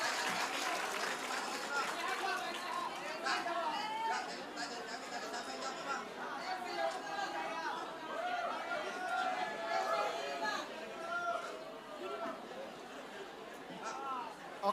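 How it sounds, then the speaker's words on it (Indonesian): A crowd at a town-hall question session with a presidential candidate in Pontianak claps amid loud chatter and babble, the applause mixed under a busy hubbub of voices throughout. "Tepuk tangan dulu buat semuanya"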